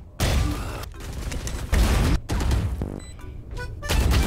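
Rapid gunfire bursts from the tactical shooter video game Valorant, several loud volleys and sharp shots separated by brief gaps, with faint electronic game sounds between them and no talking.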